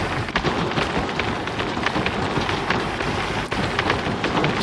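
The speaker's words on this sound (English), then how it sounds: "And it is raining," Steady rain from a video game hisses as a dense, continuous downpour, with a low rumble beneath it that stays even and moderately loud throughout.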